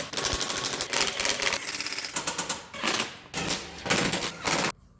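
An impact gun rattles in rapid bursts while tightening an undertray nut on a Mercedes C300, several sharp hammering runs separated by short pauses, close and loud.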